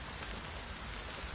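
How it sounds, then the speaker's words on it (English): Heavy downpour in the video game The Witcher: Wild Hunt, a dense, steady hiss of rain pattering on surfaces, loud and unbroken with no voices. "This downpour's a bastard,"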